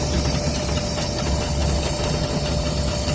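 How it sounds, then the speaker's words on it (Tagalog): An air handling unit fan with a cracked, worn drive belt gives a steady, continuous low mechanical rumble and vibration throughout, with a constant tonal hum and no talking. "nagkakaganyan yung ating fan tsaka yung ating nagbabibration dahilan sa ating belt"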